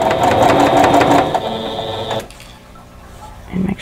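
Stitching a row of a quilt block, a sewing machine whirs rapidly and loudly for about two seconds before cutting off, followed by near-silence and a brief mechanical rustle at the end.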